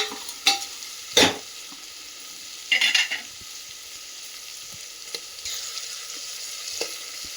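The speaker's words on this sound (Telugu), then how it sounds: "వేయించేటప్పుడు మీరు మీడియం ఫ్లేమ్లో పెట్టుకోవాలండి, అప్పుడు చాలా బాగుంటుంది." Ingredients frying and being stirred in a pan over medium flame for peas pulao, with a few sharp scraping stirs and a soft continuous sizzle, close and moderately loud, no talking.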